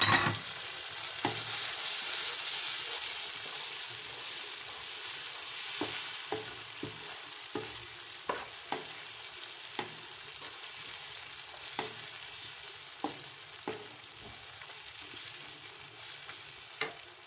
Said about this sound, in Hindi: सब्जियां हल्की सी फ्राई भी हो जाएं ताकि नरम भी हो जाएं।